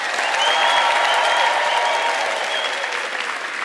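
Loud, dense applause from an audience at a university spring graduation ceremony, clapping for two new PhD graduates, sustained and steady throughout with a faint crowd murmur.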